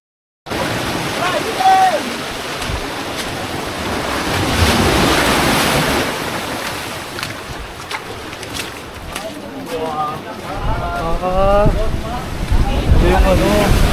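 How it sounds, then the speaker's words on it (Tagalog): Sea waves crash against rocks near a cave on a rugged coastline, a loud, continuous surging wash with gusting wind buffeting the microphone, while people chat excitedly over the surf. "sasampal ka ng alon sa mga bato"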